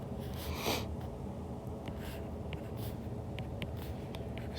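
Pen or pencil scratching across paper while a physics problem is worked out, a steady close scratchy stroke with a few brief ticks, no talking.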